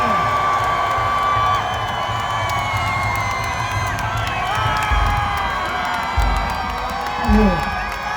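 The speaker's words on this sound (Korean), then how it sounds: "여러분 다시 한번 큰 박수 부탁드립니다" A crowd at an outdoor campaign rally in Seoul cheers and claps for a former prime minister's arrival, with whoops and shouts over a continuous roar and a loudspeaker voice carrying through.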